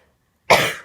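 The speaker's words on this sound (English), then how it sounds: "Pardon me while I cough." A single sharp cough, close and fairly loud, following a moment of silence.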